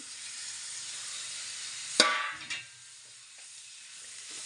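Tomatoes and onions are added to a hot pan for bhurji and hit the oil with a sudden loud sizzle that fades into a softer, steady hiss over a quiet kitchen background.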